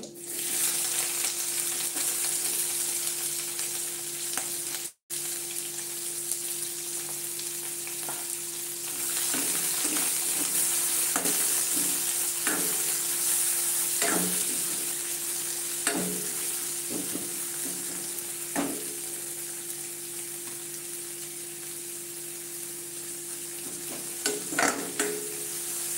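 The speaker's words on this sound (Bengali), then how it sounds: "এখানে আমি এতে পেঁয়াজগুলো দিয়ে দেবো।" Onions sizzle loudly in a hot pan at home, a continuous frying hiss with scattered pops and stirring scrapes, heard alone with no talk.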